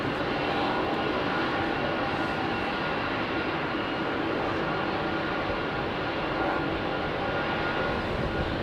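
An Air India jet airliner departing London Heathrow's runway 27R gives a continuous broad engine roar, moderately loud and steady throughout, without talk.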